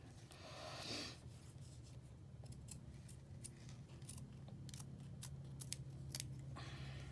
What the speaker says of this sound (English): Take my scissors and just closely cut.